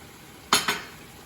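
A metal spoon knocks twice against a cooking pot of achiote-colored oil, two quick bright clinks close together over a quiet background.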